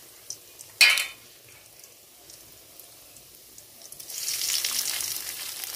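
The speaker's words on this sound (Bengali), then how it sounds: "দিয়ে একটু নেড়ে ভাজা ভাজা করে নেব।" Peanuts fry with green chilies and salt, a sharp clatter followed by quiet stirring, then a bright, steady sizzle swelling up toward the end.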